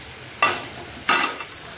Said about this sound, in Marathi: आणि लगेच टाकायच्या या कारल्याच्या फोडी